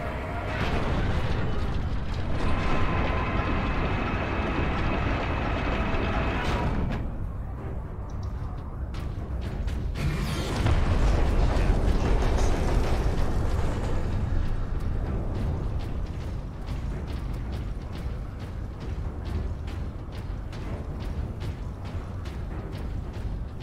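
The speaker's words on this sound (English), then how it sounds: "I love elevators." An elevator mechanism in the video game Space Marine rumbles loud and continuous, with heavy grinding mechanical drones and booming surges that swell midway before settling into a steady churning roar.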